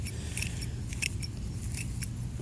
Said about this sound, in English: Chop and drop all these weeds